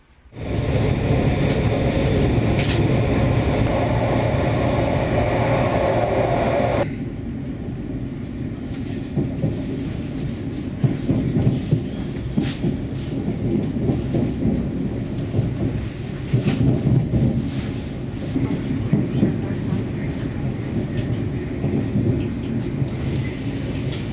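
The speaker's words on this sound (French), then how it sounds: "Notre flèche d'argent roule à très bonne vitesse sur la LGV jusqu'à Brescia" A Frecciargento high-speed train running fast on the high-speed line toward Brescia, heard as a loud, steady broadband rush and rumble that drops slightly in pitch after several seconds and then carries on with faint clicks.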